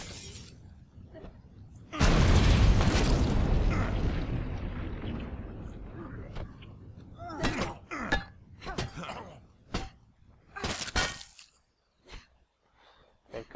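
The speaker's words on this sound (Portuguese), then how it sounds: "Explosões." Explosions in the zombie survival game State of Decay: one big booming blast with a long rumbling tail, then a series of sharp, shorter bangs and crashes. Game sounds and groans run underneath.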